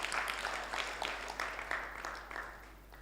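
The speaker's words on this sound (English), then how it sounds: "Let's clap for ourselves." An audience at a national stakeholders' forum in Kenya claps together in a dense, sustained round of applause that slowly fades, with no voices over it.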